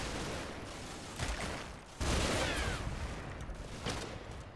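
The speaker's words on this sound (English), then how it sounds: "getting a bit of Bren fire coming their way" Bren gun fire crackles from the video game Combat Mission: Battle for Normandy, with dense bursts of gunfire and explosions filling the whole stretch and sharper bursts standing out now and then.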